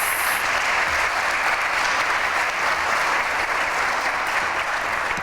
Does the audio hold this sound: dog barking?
no